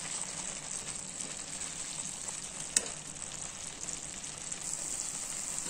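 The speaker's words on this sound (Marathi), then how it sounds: "आता आणि छान आपण परत शेंगदाणा कूट टाकून हलवून घेऊया" Fenugreek (methi) bhaji with crushed peanut powder being stirred in a pan, a soft steady sizzle with light scraping and one brief sharp knock, fairly quiet and without talking.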